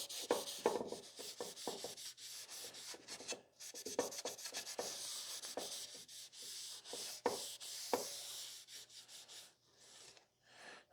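A cloth rubs wood stain into a wooden display box with sanded end grain, producing a series of soft, raspy strokes in an irregular rhythm, close and quiet with brief pauses between passes.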